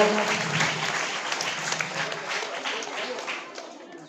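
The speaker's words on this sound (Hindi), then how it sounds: "शानदार तालियों से स्वागत सम्मान।" A crowd applauds steadily at a school Independence Day event, dense clapping that holds for several seconds before slowly tapering off.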